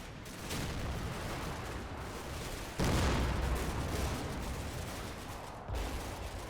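Battlefield gunfire and heavy booms roll on through a war video game's British last stand, a continuous dense wash of distant fusillade with louder surges of artillery-like blasts.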